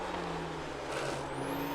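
A TCR touring car at full race pace in an IMSA Michelin Pilot Challenge race, with a steady, loud engine drone and road roar from inside. A rising whine at the end hints at another car coming alongside on the left.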